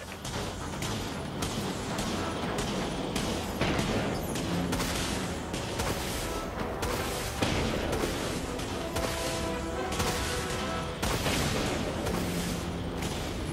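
Vulture missiles launch from a warship in the space-combat game Dreadnought, a continuous barrage of booming, whooshing launches and blasts layered over a steady roaring battle din.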